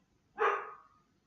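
A single short dog bark, close and clear, against a quiet background.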